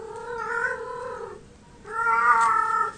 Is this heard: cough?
no